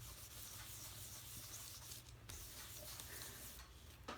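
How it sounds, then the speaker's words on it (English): A rag or paper towel buffs ink off embossing powder on a stamped card, making a faint, close, steady rubbing scuff that carries on continuously, with brief brighter swipes near the middle and end. "Take a rag, a paper towel, and you're going to buff off that ink."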